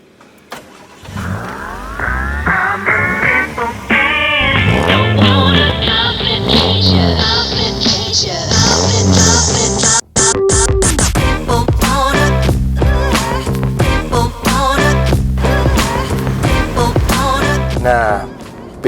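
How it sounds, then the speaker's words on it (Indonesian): A Mitsubishi Lancer CK4 SEI with an oversized engine starts up, idles, then revs and pulls away loudly, its engine note climbing steadily before shifting into repeated rising accelerations and gear changes, close and dominant. "langsung aja kita ngerasain gimana rasanya nyetir Lancer CK4 SEI ini yang mesinnya udah di oversize"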